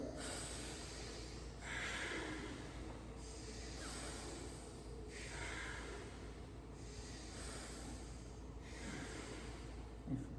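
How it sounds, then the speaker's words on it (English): Forceful Bhastrika pranayama breathing during a retreat session, a series of strong rhythmic breaths in and out through the nose, roughly six deep pulses at even intervals, close and loud with no talking. "So you can do these Bhastrika pranayam where you breathe in and out like that"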